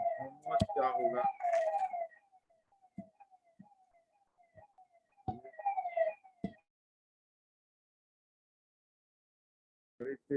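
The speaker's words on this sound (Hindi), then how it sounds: "बड़ी तेज आवाज एम्बुलेंस की आ रही थी" A siren wails in two short stretches, thin and distant, with quiet gaps between and a brief sound at the end.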